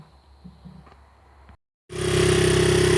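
A 1992 Honda XR80 motorcycle with new rings sits idling in a steady, even putter close by, kicking in loudly after a short pause that follows quieter background noise.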